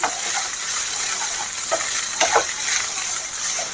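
Maggi noodles tossed with two packets of Maggi masala stir-fry in a hot pan, a bright continuous sizzle with intermittent scraping stirs, loud and close with no voices.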